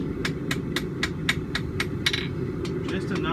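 Sharp, evenly spaced hammer blows ring on an anvil as hot steel is forge welded into a back scratcher, about a dozen strikes in quick rhythm over a low steady forge roar.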